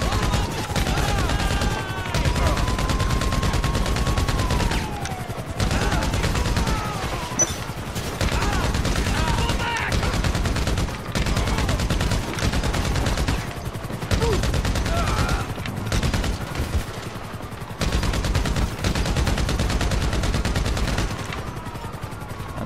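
Game gunfire in GTA Online as various weapons are test-fired one after another, loud dense bursts and rapid volleys running almost continuously, with short gaps between guns.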